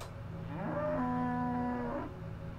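A herd of cows moos in the video game Slaughter House, a drawn-out bovine call swelling over a low game backdrop for about a second and then fading.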